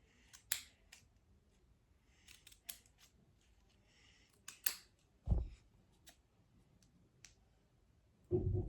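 Scissors snipping triangles from a cardboard toilet paper roll for a kids' monster craft, a series of sharp separate snips and clicks spaced irregularly, close and clear against quiet background.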